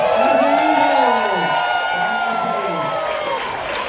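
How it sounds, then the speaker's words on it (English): Cruise ship audience cheering and applauding as the captain is introduced on the Carnival Panorama, a loud dense crowd roar with whoops and clapping, while an amplified voice carries over it. "Please put your hands together, go wild and crazy."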